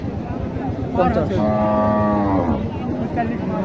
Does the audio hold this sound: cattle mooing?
yes